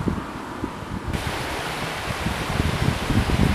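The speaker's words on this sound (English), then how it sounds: "here is the beautiful Cadoris Creek that runs right through town" Codorus Creek flowing through the small town of Glen Rock, Pennsylvania, a steady broadband rush of moving water that grows slightly louder, heard alone with no voices.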